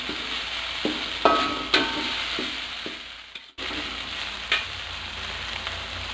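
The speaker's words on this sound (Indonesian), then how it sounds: "Kita tumis sampai wangi ya geng" Spices for ayam rica-rica sautéing in a pan, a steady close sizzle with a few clinks and scrapes of stirring, one brief dip near the middle, and no voices.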